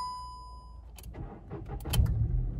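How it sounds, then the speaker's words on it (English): A car damaged in a crash is started with the key: a warning chime tone sounds first, then the starter cranks and the engine catches and rises into a rough idle, recorded from inside the car. "If I was to turn the key, let's see if the engine will turn on."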